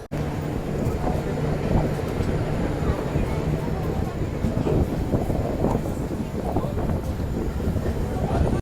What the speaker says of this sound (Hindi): तो भाई साहब अपनी जन शताब्दी एक्सप्रेस निकल चुकी है दीमापुर रेलवे स्टेशन से।